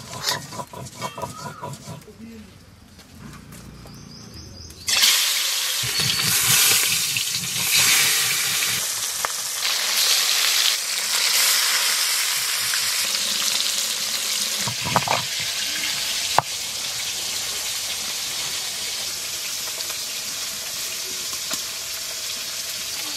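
Mustard oil sizzling and crackling in a wok for fish curry, a loud hiss that starts suddenly and then runs on steadily with faint kitchen clatter.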